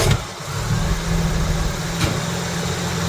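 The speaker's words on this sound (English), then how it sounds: "I'm going to go ahead and crank it." A vintage Mopar engine with an electric choke, already hot, cranks briefly and then settles into a steady, loud mid-pitched idle at close range, with a small bump partway through.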